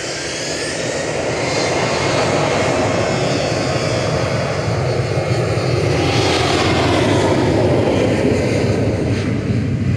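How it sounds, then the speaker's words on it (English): A Finnair airliner passes at Manchester Airport, its engine roar swelling from a quieter start into a loud, sustained broadband rumble that stays strong for the whole stretch. "Finnair flight 1362 to Helsinki"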